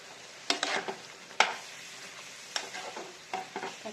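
Cut brinjal frying in a pan for a biryani gravy gives a low, steady sizzle, broken by several sharp scrapes and clinks of a spoon as the pieces are stirred.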